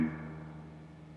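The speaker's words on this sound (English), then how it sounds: "we are going to rake in a downward motion across our top 3 strings" A guitar pick is dragged slowly downward across the top three strings, producing a soft quick spread of notes that blend into a quiet fading ring, close and alone.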